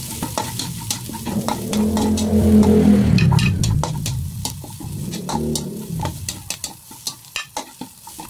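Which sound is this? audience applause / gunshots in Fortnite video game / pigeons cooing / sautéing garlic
sautéing garlic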